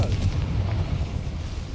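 Casting the Confringo fire spell in Hogwarts Legacy sets off a heavy, rumbling blast that roars on for almost two seconds, loud and close, with no talking over it.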